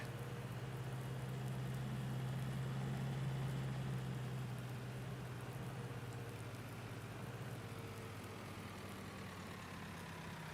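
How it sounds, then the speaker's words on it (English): Rain patters steadily in Farming Simulator 19, a soft, even hiss of falling drops laid over a low idling engine hum that fades a little toward the end. "It's still raining a bit, but I think we're good."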